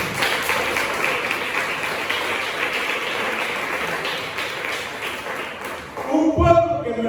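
A congregation applauds during a church service led by a prophet, steady dense clapping sustained for about six seconds before thinning out as voices and other sounds come in near the end.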